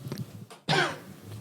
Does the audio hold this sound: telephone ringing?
no